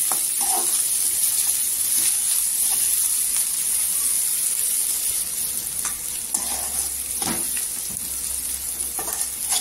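Onions frying until golden in a pan for a quick dry-fish (sukat) dish, a steady close sizzle and hiss with occasional stirring scrapes, no voices.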